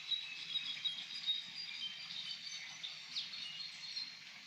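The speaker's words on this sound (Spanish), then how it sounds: "me calmo para que escuchen el cantar de los pájaros." Birds singing near a rocky hillside where a spring emerges, a steady mix of faint high chirps and tweets with soft insect-like buzzing underneath, distant and continuous with no voices.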